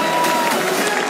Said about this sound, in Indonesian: kita minta tepuk tangannya